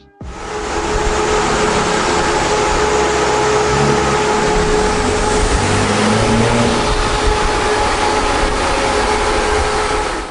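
A remapped BMW with a modified downpipe and rear exhaust section runs close by, a loud, steady exhaust drone that holds for about ten seconds without talk.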